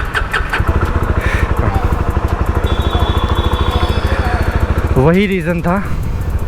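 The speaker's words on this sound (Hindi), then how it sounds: "तो भाई कुछ ये एग्जॉस्ट नोट है।" Jawa 42 FJ 350 motorcycle idling just after a cold start, its exhaust thumping in a steady, even pulse from start to finish, with a brief voice at the opening and a short rising tone near the end.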